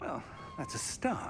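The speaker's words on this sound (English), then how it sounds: "That was my cat." A pet cat meows during play of a Hogwarts Legacy session, a brief rising and falling call heard near the end amid someone talking over the game.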